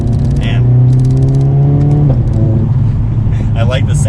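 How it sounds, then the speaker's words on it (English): A 2021 Mercedes-AMG CLA 45 coupe's engine revs and shifts, pitch climbing then dropping, with exhaust burble and turbo whooshes as a voice talks over it. "I like the sounds you get from the exhaust and the engine. You hear a little bit of the turbo noises."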